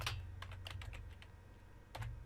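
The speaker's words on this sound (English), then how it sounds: "So I'm going to go here and I'm going to type" Typing on a computer keyboard: quiet, quick clusters of key clicks tap out in short bursts over a low steady hum, recorded close and faint.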